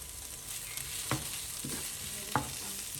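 Onion and chopped garlic frying in a pan for a mustard-onion sauce, with a soft continuous sizzle broken by a few sharp utensil scrapes as it is stirred. It is close and quiet, with no talk.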